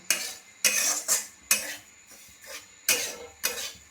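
Dry semolina is stirred in a hot wok: bursts of scraping as a spatula drags across the metal, about six strokes in an uneven rhythm, close and fairly loud, with quiet pauses between them.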